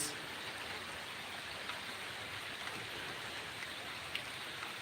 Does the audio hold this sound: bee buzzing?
no